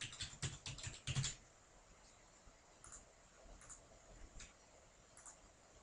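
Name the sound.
typing on a computer keyboard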